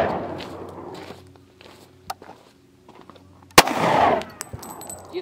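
Gunfire at a Las Vegas shooting range, a couple of sharp isolated reports, one loud and close followed by a burst of noise, between quiet stretches and footsteps.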